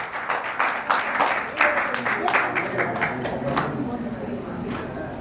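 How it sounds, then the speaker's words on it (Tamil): An audience gives a burst of applause to welcome a guest onto the dais at a public function, with dense clapping at the start that thins and fades, and a voice talking over it. "ஒரு நல்ல கைத்தட்டல் கொடுத்துடலாம்."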